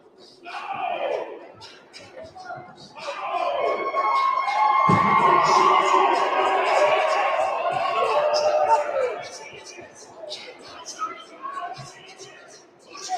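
At a 14U youth hockey game, the Bay County Blizzard team and the crowd applaud and cheer in a loud swelling burst that peaks mid-way and then fades, with whistles and shouts in the rink.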